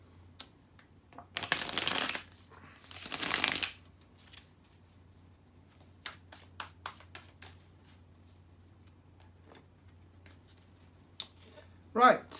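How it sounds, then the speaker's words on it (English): Tarot cards are shuffled in two loud riffling bursts near the start, followed by scattered light taps and flicks of the cards, with a short final shuffle at the end; the room is otherwise quiet. "So let me shuffle the tarot cards"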